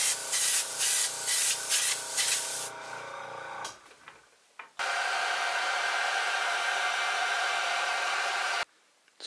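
A hair dryer blowing on a freshly sprayed leather coat on a BMW steering wheel, after several short spray hisses, with a steady close airflow roar that runs for several seconds and then cuts off.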